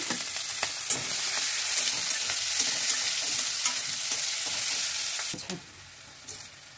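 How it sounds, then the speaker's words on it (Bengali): Chopped onion and green chilli fry in hot oil with a loud, close, continuous sizzle broken by spoon taps and stirring. The hiss drops off sharply near the end, leaving a few faint clinks. "পেঁয়াজ লঙ্কা কুচিয়ে আমি দিয়ে দিলাম। পেঁয়াজটা একটু লাল করে নেব।"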